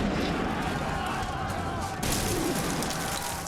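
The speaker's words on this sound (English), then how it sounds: "We see gunfire and people pouring over the top of a trench and the muddy conditions" Gunfire in a World War I trench battle scene with soldiers going over the top in mud, a steady roar of rifle and artillery fire with a sharper burst midway, heard with voices mixed in.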